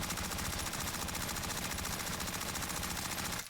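Sustained full-auto bursts from a CW MP5 submachine gun in the Warzone video game, a dense rapid rhythm of shots held without pause for about three and a half seconds, loud and close, then cutting off abruptly.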